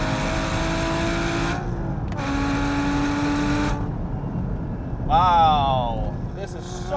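A Sharkwerks-modified Porsche Cayman GT4 engine pulls hard in third gear toward 6,000 RPM, a loud steady rising engine note with brief breaks and a shifting whine near the end, a voice speaking over it.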